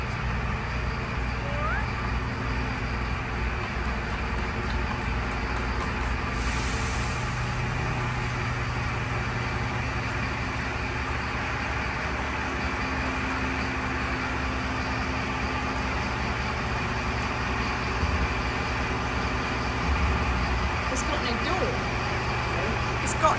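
A large Mercedes Vario van's engine drones steadily at close range as it slowly reverses out of a small barn door, with people talking over the low, constant rumble.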